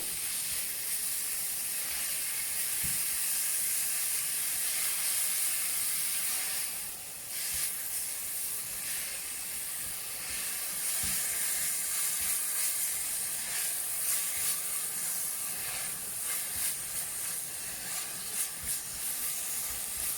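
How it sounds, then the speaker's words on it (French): Onion frying in hot olive oil, a continuous bright sizzle and hiss close up, steady for the whole stretch with small crackles and a brief dip partway through. "Donc je fais chauffer mon huile d'olive. Et on va faire revenir notre oignon."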